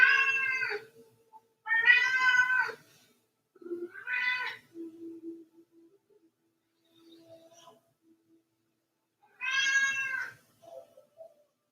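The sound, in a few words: cat meowing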